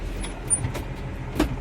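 A New Holland T6050 tractor engine easing off throttle while turning at the headland during ploughing, a steady low diesel drone with a couple of brief mechanical clicks.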